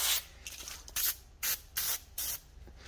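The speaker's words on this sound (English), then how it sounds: "we're gonna spray a little penetrating oil." Several short hissing bursts of penetrating oil from an aerosol can onto a car wheel nut, about five sprays in quick succession with brief pauses between them, close to the microphone.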